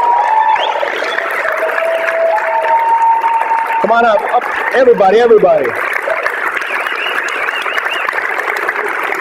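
Audience applause and crowd noise at an Ignite Phoenix closing as the organisers are called onto the stage, steady throughout with someone talking over it partway through.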